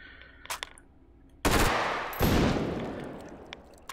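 Rifle fire in the VR game Hot Dogs, Horseshoes & Hand Grenades: a few faint clicks, then two loud, close shots whose echoing tails trail off.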